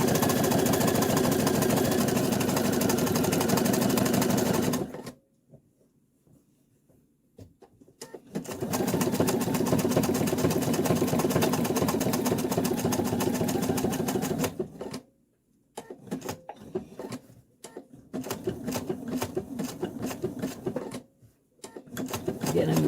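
Domestic sewing machine stitching an appliqué: loud, rapid mechanical whirring runs in bursts, stopping twice for several seconds of near silence before short stop-start runs resume near the end.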